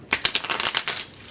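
Playing cards shuffled during a session of the video game Tails of Iron, a quick, close riffle of rapid papery flicks lasting about a second, with no talking.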